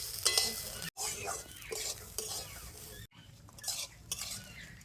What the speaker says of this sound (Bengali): তবে চালটাও কিন্তু খুব বেশি ভাজবো না, একেবারে একটু হালকা করে ভেজে নেব।